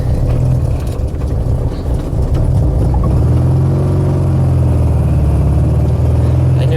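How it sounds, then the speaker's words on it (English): A 1968 VW Fastback engine fitted with Dellorto carburetors runs steadily, warmed up and with no chokes, giving a loud, close idle that deepens into a fuller, throatier drone partway through. "Did give this engine enough time to warm up."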